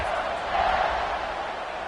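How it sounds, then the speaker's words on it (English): Stadium crowd in an American football video game after a scoring drive, a steady broad roar of cheering that swells slightly midway, loud and continuous. "this crowd is feeling themselves after that last drive"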